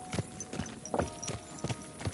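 Hooves clop in an uneven rhythm as a horse gallops along in the video game Kingdom Come: Deliverance II, close and moderately loud, with no voices.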